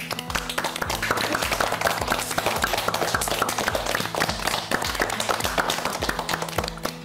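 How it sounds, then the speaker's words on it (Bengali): Audience applause for everyone on a Bangladeshi TV quiz show, a steady dense wash of clapping that holds at an even level for the full length, with no voices over it. "সবার জন্য একটা হাততালি"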